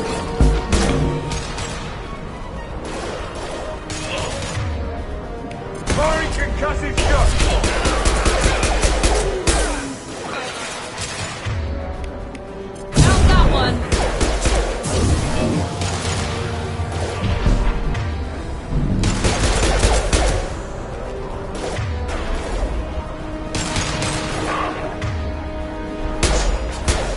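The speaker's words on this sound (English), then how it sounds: "Firing an airstrike shot!" Heavy airstrike blasts from a weapon in Mass Effect 2 hit again and again, loud crashing booms and bangs scattered across a long stretch of combat din.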